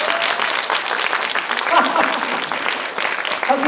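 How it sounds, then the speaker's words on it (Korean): Audience clapping at an event where the Sejong city mayor encourages exam students, a dense steady round of applause with a voice talking over it. "이런 얘기하면 박수 한번 쳐주고 그러는 거예요."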